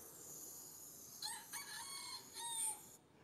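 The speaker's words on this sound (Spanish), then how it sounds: "El gallo cantó 3 veces." A rooster crows in a single drawn-out call with a rising then wavering tone, fairly close and loud, heard alone over a faint background hiss.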